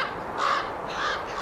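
Young raven chicks in a nest calling to be fed, two raspy cries rising over a steady hiss of outdoor ambience, fairly close.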